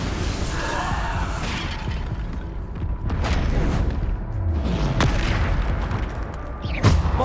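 Bombarda spell explosions in the video game Hogwarts Legacy, several heavy booms with sharp cracking impacts and whooshing debris, loud and close, spaced a second or two apart over a rumbling game background.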